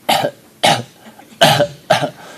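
Four separate coughs from a person, evenly spaced and fairly close, each a short harsh burst with quiet gaps between, no talking.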